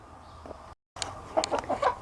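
Hens cluck and murmur softly nearby in a chicken yard, a few short bursts of low clucking after a brief gap.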